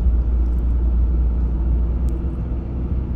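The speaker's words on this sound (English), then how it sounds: "So I'm driving probably around 20 miles an hour." Car rolling at about 20 mph along a narrow lane in Guernsey, a steady low rumble of engine and road noise heard from inside the car, with no talking.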